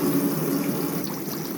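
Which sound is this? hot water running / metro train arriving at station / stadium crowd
hot water running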